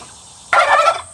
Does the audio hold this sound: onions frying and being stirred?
no